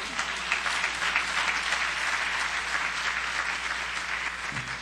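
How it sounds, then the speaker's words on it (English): Church audience applauding at a Sunday morning service for a guest speaker, sustained even clapping from a sizable crowd, a dense continuous patter at moderate distance. "Give yourselves a round of applause."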